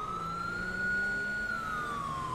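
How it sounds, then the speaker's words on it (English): A police siren from the video game LSPDFR, made by merging two siren packs, wails with a steady tone that slowly rises and falls, loud and continuous throughout. "You do like the siren."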